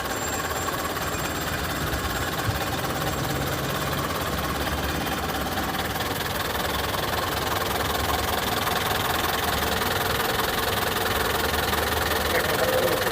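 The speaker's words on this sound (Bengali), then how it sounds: "আপনারা ইঞ্জিনের সাউন্ডটি শুনুন" An Eicher Pro 1055 pickup truck's diesel engine idles steadily about four feet away, a continuous even rumble with a faint ticking knock throughout and no voices.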